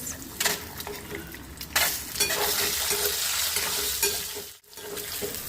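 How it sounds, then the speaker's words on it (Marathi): Eggs with chutney and a little turmeric are sautéed in a kadhai, a continuous close sizzle with repeated scraping stirs and light clinks of a utensil against the pan, and no speech. "थोडीशी चटणी आणि अंडे घालून आपण छान असे परतून घेऊया"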